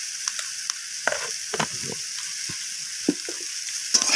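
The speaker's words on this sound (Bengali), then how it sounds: "আমি এইভাবে সবজির সাথে নাড়াচাড়া করে নিচ্ছি।" Spinach and mixed vegetables with spices are stirred in a pan over a steady soft sizzle, with a spoon scraping and knocking against the pan in irregular close strokes and no speech.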